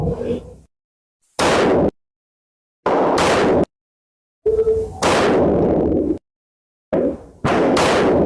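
Six pistol shots fired at a target five meters away on an outdoor range, spaced in sharp, loud bursts separated by brief silences, with a trailing echo after each report.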